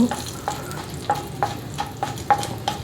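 Dried red chilies and green chilies frying in hot oil for a brinjal curd chutney, a crackling sizzle punctuated by repeated sharp pops and spatters at irregular intervals, close and alone with no voices.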